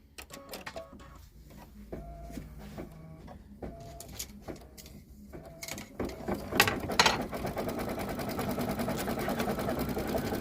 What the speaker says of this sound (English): now it's going to do the satin stitch around the shamrock and give us our stem